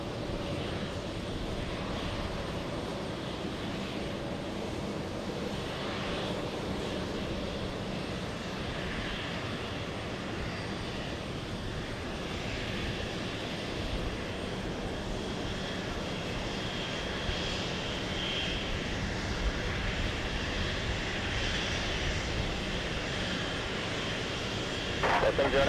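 A Boeing 777 airliner landing at JFK airport gives a steady, loud, broad engine roar that holds evenly for the whole stretch without a break.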